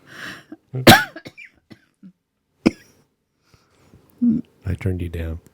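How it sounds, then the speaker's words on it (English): One person coughs a few times, with a harsh burst near the start and a single sharp cough midway, between quiet breaths and short bits of talk. "Don't make me laugh. I still have a cough."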